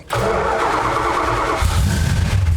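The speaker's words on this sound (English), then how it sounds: "push that clutch in and start it up" A 1962 Dodge Dart with a 413 Max Wedge V8 cranks and catches almost instantly, settling into a loud, close, lumpy idle before a throaty blip of revs.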